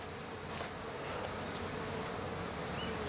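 Honeybees being hived into a box, a dense continuous swarm buzz filling the space at close range, steady and fairly quiet with no voices.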